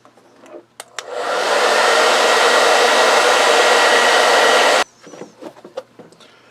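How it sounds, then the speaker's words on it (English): A blow dryer drying boot repair filler on a leather boot, switching on with a rising whir into a steady loud, close rush of air that runs about four seconds then cuts off abruptly, with light handling taps before and after. "I don't really see a problem with hitting it with a blow dryer"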